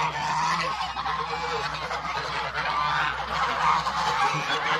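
A large flock of geese, with ducks among them, honks continuously in a crowded farmyard, a loud dense chorus of overlapping calls with no pauses across the whole stretch.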